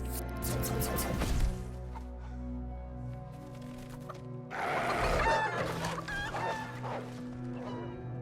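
A toy chicken clucks and squawks in two bursts, near and moderately loud, with quiet gaps between.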